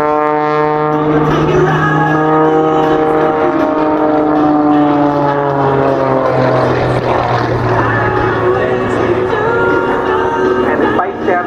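A light propeller aircraft at the Barossa Air Show, flown by a pilot from Goolwa Aerodrome, drones steadily and loudly overhead, its tonal engine pitch sliding gradually lower as it passes.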